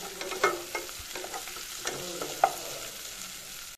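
Cloves, cardamom, cinnamon pieces and two bay leaves stirred in hot oil in a pan, with a soft steady sizzle and repeated scraping and clinking of the spoon, a couple of sharper taps standing out.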